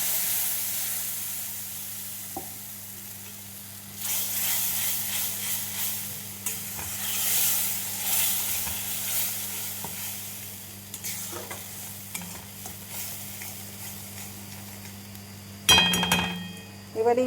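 Nigella seeds (kalo jeere) sizzle in hot frying oil while being stirred, a steady crackling hiss that swells and fades with the stirring, ending in a few sharp clatters of the utensil against the pan.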